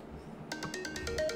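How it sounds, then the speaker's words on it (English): A phone alarm starts up after a half-second of quiet, sounding a bright repeating chime in quick pulses, loud and close, with a kitchen room tone beneath. "That was my alarm."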